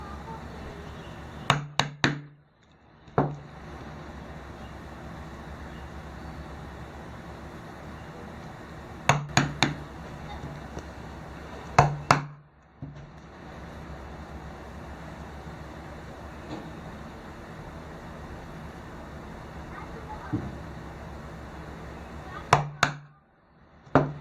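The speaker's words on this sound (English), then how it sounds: "I'll go ahead and chisel this all the way up." A chisel is hammered through leather to punch stitching holes, giving sharp, close knocks in short clusters with pauses between them over a low background hum.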